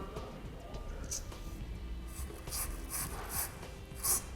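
A tube brush scrubs dirt out of hitch bolt holes in the frame of a 2006 Nissan Quest, making faint, bristly rubbing strokes in several short bursts close by.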